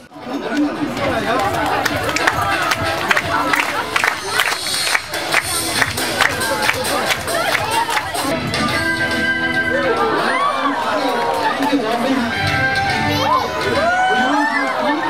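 Enthusiastic crowd at a dolphin lagoon show in Singapore, a dense chatter of many voices with bursts of cheering and clapping, loud and continuous.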